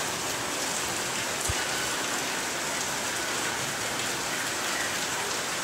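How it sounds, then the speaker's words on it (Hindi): Heavy rain pours steadily outdoors at a school in Ayodhya, a dense unbroken hiss of drops on surfaces, loud and close with no voices over it. "जैसे ही ग्राउंड का टाइम होता है बारिश चालू हो जाती है।"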